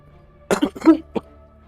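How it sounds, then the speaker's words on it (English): A few sharp, close coughs in quick succession, with a throat-clearing quality, followed by silence. "Oh man, we're both coughing."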